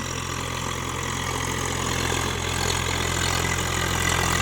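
A Swraj 744 FE 4WD tractor engine runs steadily up close during ploughing in a muddy field, a constant low diesel throb with an even mechanical rattle and no talking.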